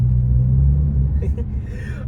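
A 2013 Audi S4 (B8.5) drives through a tunnel, giving a loud, steady low rumble of road and engine noise that eases slightly near the end.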